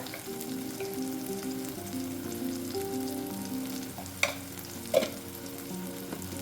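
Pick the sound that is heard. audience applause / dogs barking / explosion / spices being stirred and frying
spices being stirred and frying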